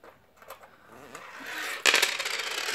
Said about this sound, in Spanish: Mira, aquí hay unas cuantas pesetas.